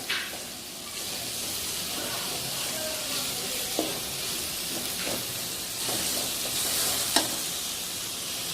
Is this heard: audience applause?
no